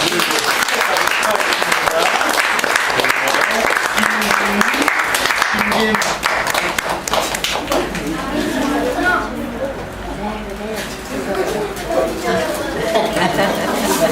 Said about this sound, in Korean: 어린이날은 크게 우리 박수로 쳐.